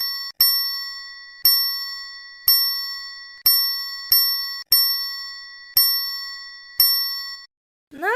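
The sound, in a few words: triangle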